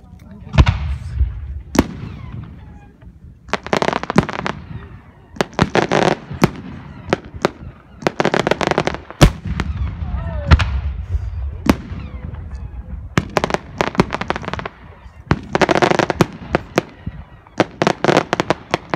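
Four-inch multi-break cylinder firework shells bursting outdoors in a long series of loud, sharp booms and crackling reports, some in quick pairs, with faint voices between bursts.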